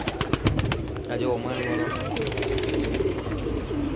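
Pigeons coo and call in a backyard loft where Teddy pigeons are kept. A voice talks over the birds, and there is some clicking and handling noise, with a fairly steady murmur of calls.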